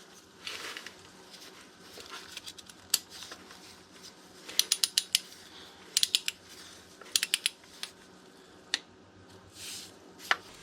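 A torque wrench clicks and ratchets while snugging the cross tube on a 24-valve 5.9 Cummins diesel engine, giving short bursts of sharp, close metallic ticks with pauses between them and no talking.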